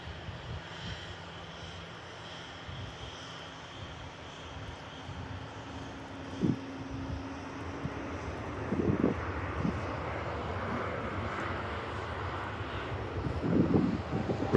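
Airbus A380 super airliner touching down at Manchester Airport, a distant low engine rumble with wind buffeting, followed by a few brief thumps and a rising roar of reverse thrust.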